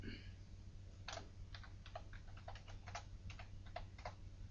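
Quick, close keystrokes on a computer keyboard, roughly a dozen light clicks tapped in a brisk, uneven run over a low steady hum.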